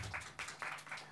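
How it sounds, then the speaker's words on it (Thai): A film festival audience claps to welcome a film director to a Q&A session: dense, continuous applause that swells in pulses over a short stretch, with no clear speech. "ก็ขอเสียงปรบมือต้อนรับคุณเหล่าเก๊กฮวดพุ่มกับครับ"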